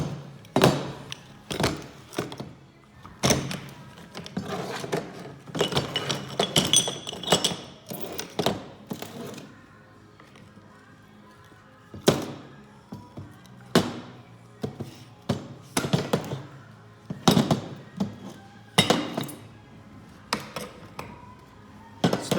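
Broken glass from a fake lithium battery is spread out on a surface, giving a string of sharp, close clinks and knocks in irregular clusters with short pauses between them.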